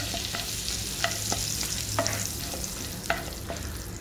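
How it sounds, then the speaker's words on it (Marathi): Green chili, cumin and cloves dry-roasting in a pan for shahi matar paneer, with a steady low sizzle and a few sharp spoon scrapes and clicks against the pan, close and alone with no talking. "आणि मग त्याच्यामध्ये आपण ही 1 मिरची, थोडेसे जिरे आणि 2 लवंग हे टाकायचे आहेत आणि ते थोडंसं भाजून घ्यायचं आहे"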